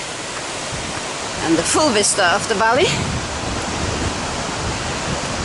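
A big creek along the PCT near Olallie Lake, rushing water forming a loud steady roar close by, with a person speaking briefly over it.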